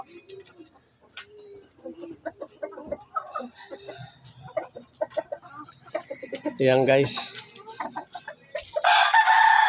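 Chickens cluck and a rooster crows during a morning feeding in a backyard flock, with scattered clucks building to a loud crow near the end and someone talking briefly in between.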